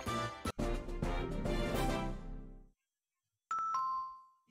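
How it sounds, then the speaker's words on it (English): A ding-dong chime rings out as a bright two-tone electronic doorbell-style tone, loud and clear, after which a single softer ding follows in near silence. "Ding dong."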